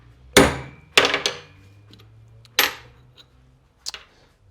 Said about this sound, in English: I take my punch tool, position that on top, and then I use a hammer and force the circlip into the piston